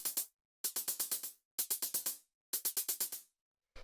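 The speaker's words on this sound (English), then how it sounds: "So the first one we've got here is this closed hi-hat" An 808-style drum-machine closed hi-hat plays short, crisp, bright ticks in quick bursts of about five or six hits, each burst followed by a brief silence, close and clean.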